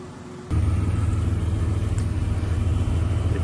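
An abandoned 1986 Ford Ranger 4x4 pickup's engine starts up after a quiet moment and settles into a steady, close low rumbling idle that fills the rest of the clip.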